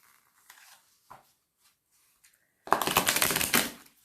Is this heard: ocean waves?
no